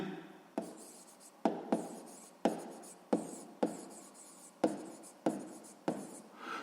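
A pen scratches on paper while a maths solution for a sixth-grade exercise is written out, in short repeated strokes, each starting with a sharp tap and then fading, close and fairly quiet.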